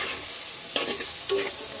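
Turmeric and ground coriander frying in a pan, a close steady hiss of sizzling oil with a few brief scraping stirs toward the end, and no voices.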